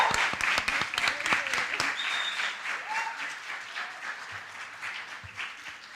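Audience clapping at an SVAD exhibition event, with dense near claps at first that settle into softer, steadier applause while faint voices and tones sit underneath.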